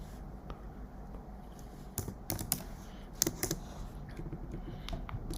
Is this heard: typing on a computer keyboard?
yes